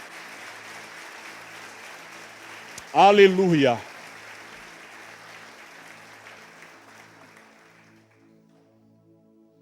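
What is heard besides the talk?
applause for the Lord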